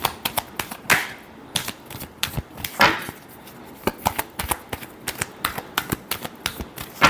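Tarot cards being shuffled give a rapid series of sharp, close riffles and taps in an irregular rhythm, with brief louder bursts of card noise and no talking.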